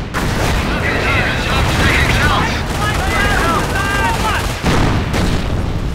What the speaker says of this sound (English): The Panzer is able to fire more quickly